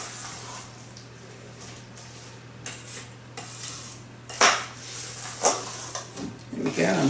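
A spoon scrapes and knocks around a bowl while blueberry muffin batter is folded together, soft irregular stirring with a few sharper clinks near the end and a low steady hum behind.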